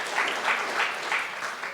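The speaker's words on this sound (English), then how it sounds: "Let's have a round of applause" A conference audience applauding, a dense patter of hand claps from a seated crowd, steady and moderately loud for a couple of seconds.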